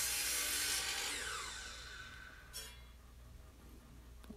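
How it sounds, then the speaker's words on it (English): A hand saw cuts a 60-degree angle into a wooden block for a hand plane body, a close, rasping stroke that fades into quieter scraping. "first I cut a 60-degree angle on one side."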